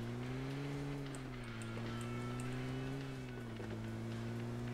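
A car engine drones in PUBG Mobile, a steady close motor hum that rises and dips in pitch as the vehicle drives on, with faint tyre and road noise and no talk.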